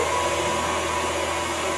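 An electric mixer on medium speed whirs steadily at a constant pitch, loud and close, mixing German chocolate cake batter, with no talking.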